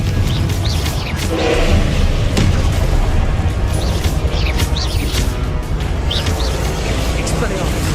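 A Confringo fire spell blasts in a Hogwarts wizarding video game, a booming explosion amid a dense, continuous wash of loud combat effects that rumbles on for several seconds.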